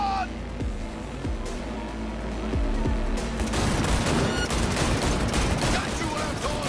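Rapid gunfire rattles over a roaring car engine during a car chase in the video game Cyberpunk 2077, growing denser and louder partway through.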